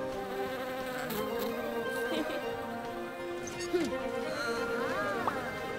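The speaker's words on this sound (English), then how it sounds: "A friendly little bee!" A cartoon bee buzzes in a children's animated show, a wavering insect drone running under lively background music and voices, moderately loud and close throughout.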